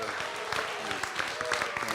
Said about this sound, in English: Please give a round of applause for Dave.